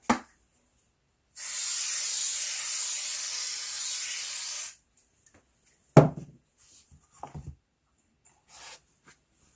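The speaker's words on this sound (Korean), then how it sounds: "스프레이를 여기다 뿌리고요." Spray adhesive hisses from an aerosol can onto a picture frame in one steady burst of about three seconds, close and bright, followed by a few faint handling knocks and rustles.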